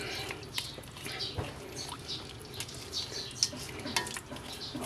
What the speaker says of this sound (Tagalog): Haluin ko lang konti.